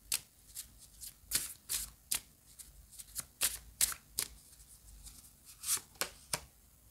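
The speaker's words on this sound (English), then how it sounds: "We're just going to take a crystal affirmation card for you now." Crystal affirmation cards shuffled by hand for a tarot reading, a close, quiet series of soft riffling slaps and flicks in irregular bursts, with no voices.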